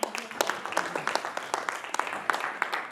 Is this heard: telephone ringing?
no